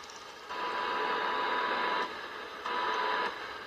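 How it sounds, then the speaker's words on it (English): A frequency counter inside a Galaxy 55HP CB radio gives off a steady buzzing hum with static, rising and dropping as it switches on and off twice. "You hear that ticking, humming in there? That's the freak counter."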